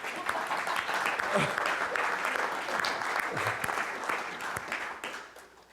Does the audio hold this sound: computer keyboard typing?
no